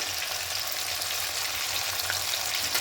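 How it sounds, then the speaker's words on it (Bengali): Tomato and onion with salt sauté in a pan, giving a steady, close, even sizzle that continues without a break. No one talks. "এবার দিয়ে হালকা করে একটু কষিয়ে নেবো যাতে কাঁচা গন্ধটা চলে যায়"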